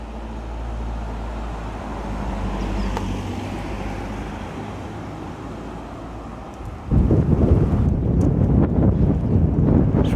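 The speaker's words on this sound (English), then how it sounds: "It's windy today round here." Strong wind buffets the microphone on a back beach at Teignmouth, a steady loud roar that surges even harder partway through, with no talking.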